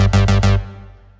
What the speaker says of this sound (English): It sounds like the analog bass by itself.